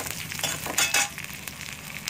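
Red chillies sizzling in hot oil as a tempering for dal, a steady crackling fry with a few sharper spattering bursts, close and moderately loud, no talking.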